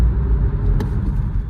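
A BMW 118i engine runs just after starting, with smoke coming from it, producing a loud, close, steady low rumble with a brief rise in the middle.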